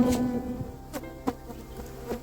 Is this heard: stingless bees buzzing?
yes